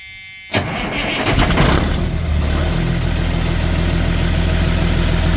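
A car engine that has sat unused in a driveway cranks and catches with a sudden burst, then settles into a steady, slightly knocking idle, close by and continuous.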